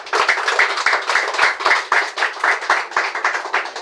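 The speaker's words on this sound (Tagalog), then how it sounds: "pumalakpak ng malakas sa ating Panginoon" A church congregation claps loudly in a fast, even rhythm, sharp unified beats repeating steadily throughout.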